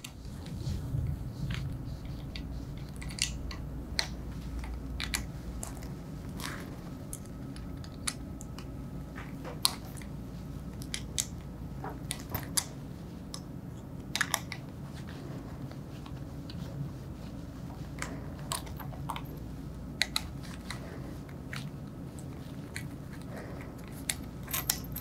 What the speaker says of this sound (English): remove the four hex head bolts at the corners of the user interface